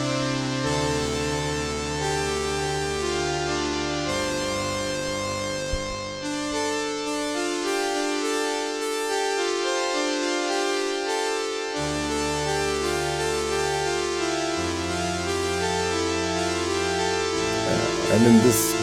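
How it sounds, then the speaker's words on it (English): Roland Alpha Juno synthesizer playing a vintage string patch built from pulse and sawtooth waveforms with pulse width modulation, sustained chords shifting in steady blocks for about nineteen seconds, played alone and loud. "you can do a lot of cool sounds like this with the pulse width."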